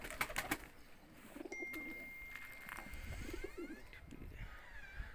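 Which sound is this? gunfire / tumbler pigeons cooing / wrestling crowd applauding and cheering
tumbler pigeons cooing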